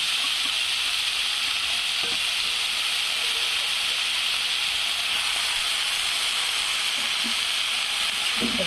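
Fenugreek leaves cook in a pan with a loud, unbroken hissing sizzle, close and constant, with a few faint clinks of stirring beneath.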